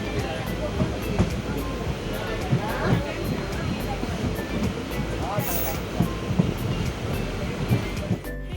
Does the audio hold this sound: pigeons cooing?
no